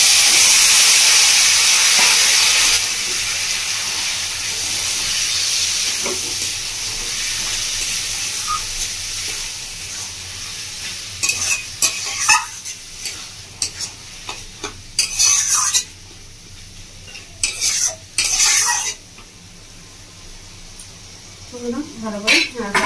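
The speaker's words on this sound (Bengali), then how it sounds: "মশলাটা খুব ভালোভাবে ভাজা হয়ে গেছে।" Ground spice paste fries and sizzles in a pan for a Bengali cabbage and fish-head dish, a loud steady hiss at first, then irregular scraping stirs that come in bursts amid quieter frying.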